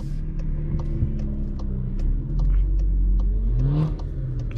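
A 2021 Cupra Formentor SUV with a 1.5-litre engine accelerates, its engine note rising and falling through revs with a low rumble, heard from inside the car and with no talking.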